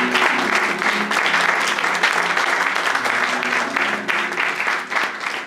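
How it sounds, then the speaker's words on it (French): An audience at a church youth day applauds Alan, with sustained, even clapping that stays moderately loud the whole time. "Est-ce qu'on peut applaudir pour Alan?"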